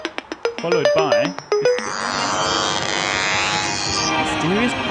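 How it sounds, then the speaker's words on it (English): A puzzle audio track: rhythmic electronic beats and chirping tones give way to a steady, harsh electric buzzing laced with static that drones on to the end. "mysterious buzzing noise with a little static in front of it."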